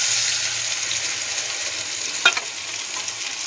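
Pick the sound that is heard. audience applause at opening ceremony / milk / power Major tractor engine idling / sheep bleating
milk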